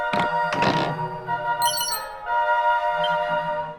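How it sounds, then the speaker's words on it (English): Retro-style sound effects from the video game Dragon Quest III HD-2D Remake: two quick percussive thunks followed by a sparkling high chime and sustained melodic tones, loud and clear with no talking. "They really harken back to the old Dragon Quest sound effects"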